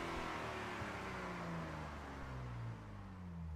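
A car's VR30 engine in Gran Turismo 7 revs with a rough, strained tone, several harmonic lines sliding down as the revs fall, steady and close with no voices over it.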